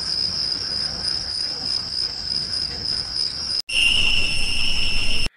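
Two takes of AI-generated cricket chirping, steady and high-pitched, a continuous shrill trill over a soft background, with a brief cut between them.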